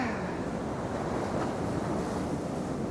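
Waves wash up a beach at Spurn Point at sunrise on a breezy coast, a continuous broad rushing surf with wind buffeting the microphone, steady and fairly loud with no voices.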